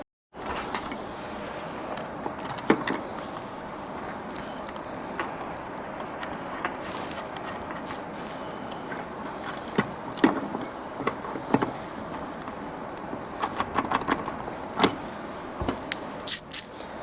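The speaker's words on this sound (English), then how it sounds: "I want to put the flat washers and nylocks on the back side of that" Small steel bolts, flat washers and nylock nuts handled on a roof rack installed on a Lexus GX 470, giving light metallic clinks and jingles scattered over a steady background, with a brief cluster of rattles near the end.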